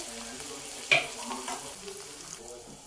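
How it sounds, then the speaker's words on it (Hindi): Tomatoes drop into a hot pan and start cooking, with one soft thud followed by a faint, quiet sizzle. "आता आपण यात घालून घेऊया टमाटे. टमाट्यांना छान शिजू द्यायचंय."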